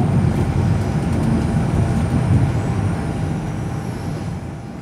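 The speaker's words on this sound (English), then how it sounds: "we are riding the Amtrak 851, the northbound Hoosier State" Steady low rumble of the northbound Amtrak 851 Hoosier State train rolling out of Indianapolis at sunrise, heard from inside the dome car, a continuous even roar with faint rattles and no voices.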